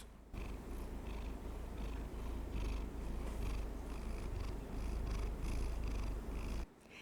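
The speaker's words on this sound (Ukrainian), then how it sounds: "Кожен мікрофон повинен проходити тест на муркання. Котяче муркання." Close, continuous cat purring, a low steady rumble with a soft rhythmic pulse, heard alone for several seconds, recorded on a Fifine Ampligame A6T microphone.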